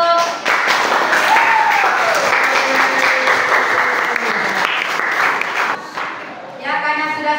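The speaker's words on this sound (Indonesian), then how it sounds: "Tepuk tangan untuk" Classroom applause from students at the end of a lesson, a sustained burst of clapping over about six seconds that fades, with a voice and some crowd noise mixed in, then a teacher starts talking.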